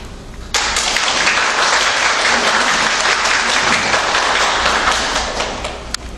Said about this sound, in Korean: 목사님 나오실 때 환영의 박수를 보내주시기 바랍니다